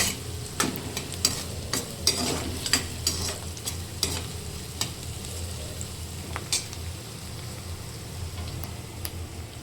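Onions fry in a pan for a potato bhaji, a soft steady sizzle punctuated by repeated sharp clicks and scrapes of stirring, close and fairly quiet with no talk.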